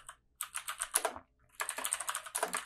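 Computer keyboard keys are tapped in two quick bursts of steady clicking, separated by a short pause, close and clear with no voices.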